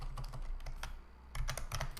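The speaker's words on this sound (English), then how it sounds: "my typing is terrible for now" Rapid, uneven clatter of keys being typed on a computer keyboard, close and fairly quiet, in bursts with a short pause midway.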